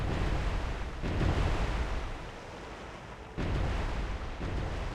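A naval gunfire volley from an Arleigh Burke destroyer in the submarine warfare game Cold Waters, set in the South China Sea in 2000: heavy rumbling booms that roll on continuously, with a fresh surge of blasts near the end.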